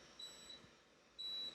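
A few short, faint electronic beeps sound in a quiet room, two quick chirps early and a slightly longer tone near the end, with no talking.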